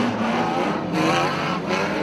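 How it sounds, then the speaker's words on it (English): Volvo estate banger car spinning round on a dirt race track, its engine roaring and revving in surges with tyre scrabble, loud and close amid other racing cars. "The Volvo estate spins round."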